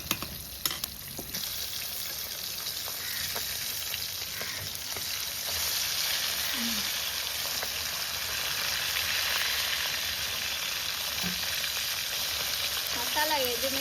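Fish frying in a pan for a home-cooked Indian lunch, a steady bright sizzle and crackle running throughout with occasional pops and stirring sounds, close and continuous with no talk.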